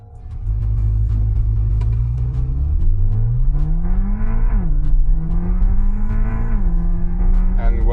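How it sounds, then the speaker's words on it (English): A 2026 Voyah Passion S electric car plays a simulated engine sound: a loud, close droning rev that climbs, drops abruptly at gear shifts, then climbs again, with no voices heard. "And when we say downshift the gear, it is as if our RPMs go up."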